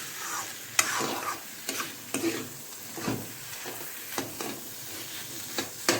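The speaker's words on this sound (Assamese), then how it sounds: "একদম পানীটো পূৰা শুকাই যাব লাগিব, ড্ৰাই ফ্ৰাই হ'ব লাগিব" Fish pulao with rice is stir-fried in a pan until the water dries off, giving a constant close sizzle broken by regular scraping strokes of a spatula.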